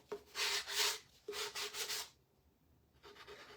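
Close, soft rasping strokes of a sanding sponge rubbing wooden honey bee decor, two long passes, a brief pause, then another stroke begins.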